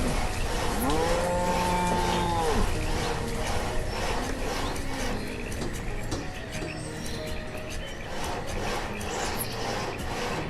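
Cows moo in the farming city-builder game Banished, one long drawn-out low moo heard clearly over a dense, continuous wash of game ambience and background noise.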